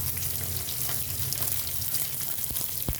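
Whole spices, dried red chillies, cinnamon and cloves, fry in hot oil in a pan, giving a loud, steady close sizzle with a couple of sharp clinks near the end.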